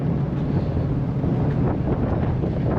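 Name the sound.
wind blowing on a ferry deck, Alaska's Inside Passage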